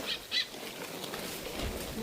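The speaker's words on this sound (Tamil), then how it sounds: "இந்த குருவி கத்திக்கொண்டே நிற்குது" A small bird calls near a pond, two short high chirps close together at the start, then quieter outdoor ambience.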